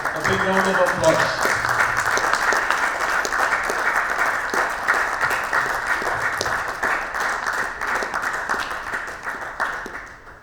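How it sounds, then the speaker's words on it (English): An audience at a book release ceremony during a national CSR summit breaks into sustained, dense applause that carries on steadily and fades slightly near the end, with a voice briefly audible underneath. "A big round of applause."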